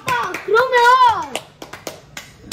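Several sharp hand claps, loud and close, follow a short burst of a speaking voice in a Korean church Bible-study class, with the claps scattered unevenly.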